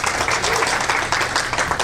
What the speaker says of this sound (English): Give yourselves a round of applause for actually being here